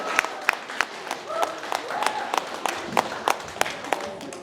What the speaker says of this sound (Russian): Аплодисменты отдельные.